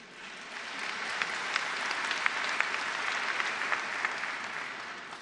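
Sustained applause from a large audience during a prime ministerial speech at a plenary session of an international economic forum, steady dense clapping with a few sharper claps standing out, no voices over it.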